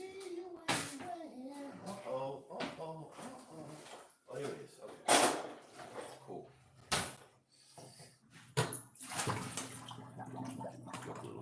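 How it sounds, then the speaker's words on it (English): Tap water runs into a pot for potatoes in a home kitchen, with several bursts of rushing, splashing flow separated by short pauses, near and fairly loud, and some voices early on. "I can get some water and get our potatoes in it"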